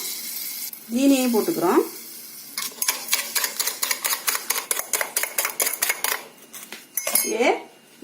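Eggs and sugar get beaten in a bowl, with a fast, even run of clinking whisk-against-bowl strikes in the middle and spoken voice before and after.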